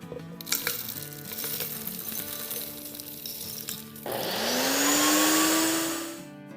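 Roasted spices are tipped into a large mixer grinder jar with clinks and rattles, then the motor starts with a rising whine and grinds loudly for a couple of seconds before winding down.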